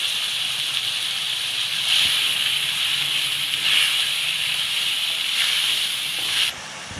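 Chopped tomatoes with salt sizzling in a pan for watermelon kootu, a steady loud hiss that swells and eases in waves as they are stirred, ending with a slight drop.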